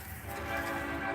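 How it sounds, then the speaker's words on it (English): A passing train rumbles steadily with its horn sounding a sustained, loud blare throughout the short stretch. "There's going to be a lot of loud horn blowing here because there's going to be a train going by"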